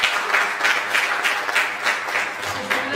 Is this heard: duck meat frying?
no